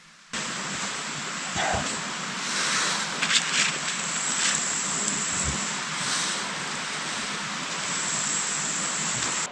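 A river rushes somewhere along a forest mushroom-hunting walk, a steady, broad wash of flowing water that holds at an even level throughout with no voices over it.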